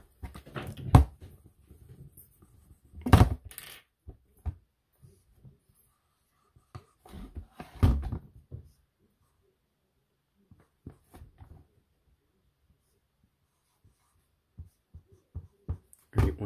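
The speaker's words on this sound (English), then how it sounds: "you want to get a marker and you want to write the" A marker scratches and squeaks across a surface in short, scattered strokes. The strokes are near and sparse, and long quiet gaps fall between them.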